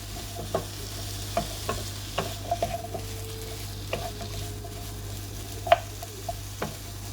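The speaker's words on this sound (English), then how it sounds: "I'm going to stir fry this for like just another minute and set it aside." Chicken and turkey chops being stir fried in a pan: a quiet, steady sizzle under scattered clicks and scrapes of a utensil stirring, with no voices.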